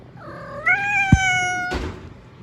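A cat gives one drawn-out, rising meow close by, followed by a soft thump and a brief rustle, no talk.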